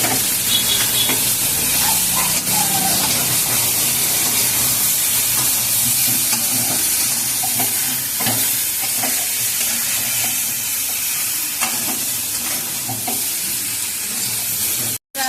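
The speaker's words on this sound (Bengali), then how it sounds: "এবার আমি দিয়ে দিচ্ছি লঙ্কা। এবার আমি ভালো করে কষাবো।" Chili, vegetables and rohu fish sauté in a pan in a village kitchen, a loud continuous sizzle with faint stirring scrapes throughout and no talking.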